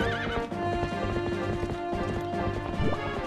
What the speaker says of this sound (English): The horses were always hard to control in Legend of Zelda games